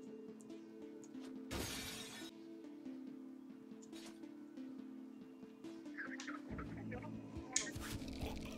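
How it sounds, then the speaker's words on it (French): Window glass shatters in the video game Ronin: one sharp, crashing burst early on, then the game's quiet ambient hum and faint clicks continue. "si j'explose la vitre"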